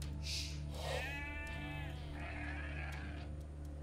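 Sheep bleating in the Age of Empires 2 Definitive Edition campaign, a few short wavering bleats over a steady hum of game ambience and music.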